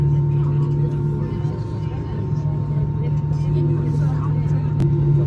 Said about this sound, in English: Both engines are getting started now.